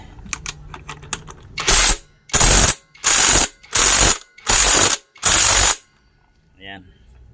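A ratchet wrench tightens a nut: after a few quick light clicks come six loud, evenly spaced bursts of rapid ratcheting clicks, each about half a second long, then a faint short noise at the end.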